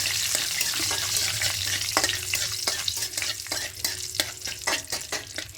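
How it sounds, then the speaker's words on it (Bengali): Whole spices (cinnamon, cardamom, cloves and two bay leaves) fry in hot oil and get stirred, giving a steady loud sizzle punctuated by repeated scraping strokes of a utensil against the pan. "এবার এই তেলের মধ্যে গোটা গরম মশলা করে দেবো দারুচিনি এলাচ লবঙ্গ আর দুটো তেজপাতা দেবো দিয়ে হালকা একটু নাড়াচাড়া করে নেবো"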